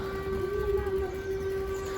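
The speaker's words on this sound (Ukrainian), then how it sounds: "Тренувальна повітряна тривога." Civil defense siren sounding a training air raid alert, a steady sustained wail heard from a distance over faint background noise.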